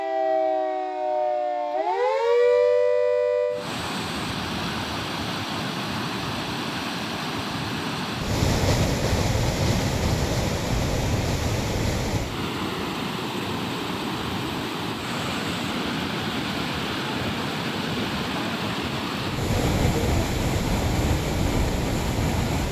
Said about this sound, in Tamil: திண்டுக்கல் மாவட்ட ஆட்சியர் பூங்கொடி ஆகியோர் தண்ணீரை திறந்து வைத்தனர்.